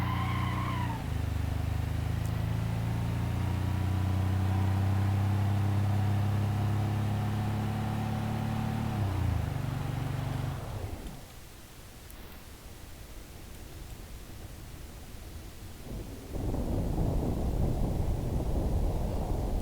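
In a video game, a Burnside AeroCoupe I8's rumbling engine roar builds for about ten seconds, then cuts into a sudden crunching impact with a cinder block wall, a lull of low noise, and another burst of harsh rumble.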